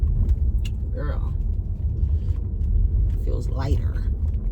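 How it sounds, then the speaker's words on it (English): Road traffic rumbles past on a busy town street, a steady low drone of car engines with a few vehicles passing close, while someone talks over it. "There's so much damn traffic over here."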